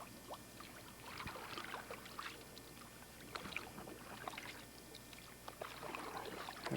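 Rowing a small boat through a waterway with a little blue heron and an alligator nearby: soft, steady water swishes and paddle dips recur across the clip, fairly close, with a low constant background hum and no voices.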